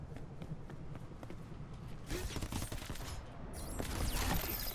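Gunfire from a flesh-burning gun in Crackdown 3 crackles in rapid bursts over game ambience, growing denser and louder toward the end, with a faint voice in the background.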